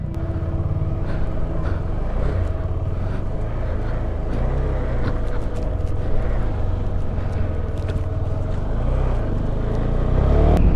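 KTM 390 Adventure motorcycle ridden on the highway from Hampi to Bangalore, a steady engine drone with wind rush throughout, holding even and swelling slightly louder near the end.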